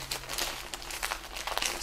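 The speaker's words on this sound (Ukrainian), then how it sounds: "Після того, як я наповнив пакет, потрібно його стягнути" A plastic bag filled with soil is pulled tight while air-layering a weeping fig, giving close crinkling and rustling plastic in short, uneven bursts.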